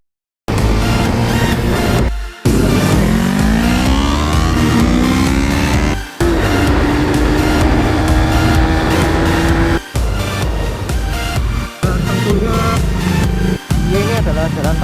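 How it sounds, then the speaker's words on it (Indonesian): Motorcycle engine running on Shell Advanced AX7 10W-40 synthetic-based oil, with a slightly rough note: loud, close and continuous, with rising whining tones as it revs and several short cuts in the sound. "Bunyi mesinnya ya bisa dibilang agak sedikit kasar ya"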